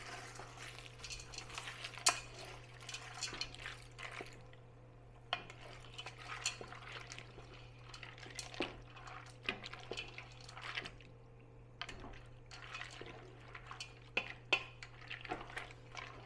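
A spoon stirring macaroni with chili powder and cumin in a pot, giving scattered scrapes and clinks against the metal over a steady low hum, close and fairly quiet, with no talking.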